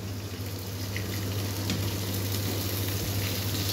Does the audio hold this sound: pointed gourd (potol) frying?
yes